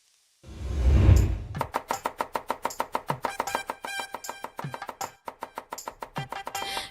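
Rapid knife chopping of vegetables on a cutting board, dozens of quick sharp taps in a fast steady rhythm, close and clear, after a brief rustling whoosh, with no voices.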